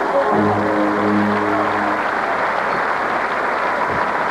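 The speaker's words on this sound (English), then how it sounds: "Give Jonathan a big round of applause." A theatre audience at a magic show gives a big, loud round of applause for a volunteer, a thick continuous roar of clapping with some low tonal music fading out early on.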